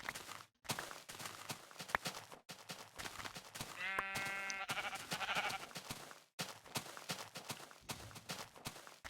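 A sheep in the video game Minecraft gives one clear wavering bleat midway, heard over dense rapid footstep-like clicks and scuffs of gameplay.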